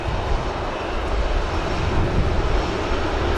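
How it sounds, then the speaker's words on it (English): An EasyJet Airbus A321neo departing Manchester Airport for Paphos: a steady, loud broadband jet roar with deep low rumble, continuous throughout, no voices. "this Paphos outbound 321 Neo of EasyJet"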